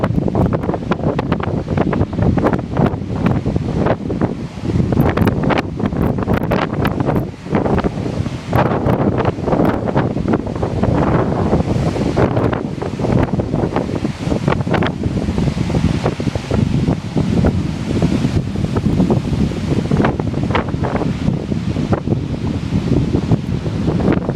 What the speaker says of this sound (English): The waves are really violent today.